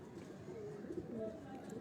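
Pigeons belonging to a pigeon fancier in Dharampura, Lahore, coo softly nearby. The low murmuring is faint and partly mixed with quiet human voices.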